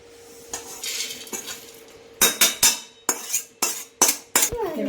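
A metal spoon stirs and sautés peanut chutney ingredients in a pan, with faint scraping followed by a series of sharp, close clinks and knocks against the pan at an irregular rhythm, with no talking.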